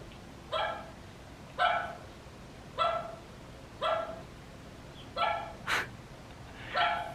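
A dog gives six or seven soft, muffled woofs spaced about a second apart while barking in its sleep, low and breathy, with one brief sharp sound near the end.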